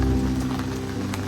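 Rain falls steadily as a continuous dense patter on a surface, moderately loud throughout with no talking.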